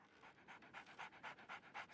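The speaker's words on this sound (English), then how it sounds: "Barnes has a dog now. Who's a good boy?" A dog pants steadily in the game Sherlock Holmes: The Awakened, a quick, regular rhythm of breathy huffs repeating about four times a second, soft and close, with no other sounds.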